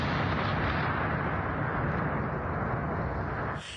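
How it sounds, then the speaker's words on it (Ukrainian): A loud, sustained roaring rumble of blasts from Russian shelling of central Kharkiv fills the clip, dense and continuous, then cuts off abruptly near the end. "Рівно о 19-й харків'яни здригнулися від вибухів."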